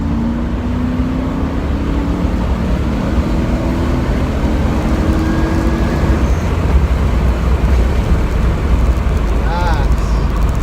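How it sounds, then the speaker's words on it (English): A 1997 Chevrolet Camaro Z28 with an LT1 V8 and automatic transmission pulls hard in second gear from about 40 mph, a loud steady engine roar with rising tones throughout. "We'll do a quick little second gear pull from 40 here."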